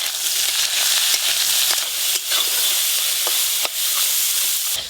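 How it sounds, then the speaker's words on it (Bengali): Small crabs frying in hot oil with salt and turmeric powder give a loud, steady sizzle and hiss, with occasional stirring scrapes breaking through the constant crackle. "এবার আমি কাঁকড়াগুলো ভেজে নেব।"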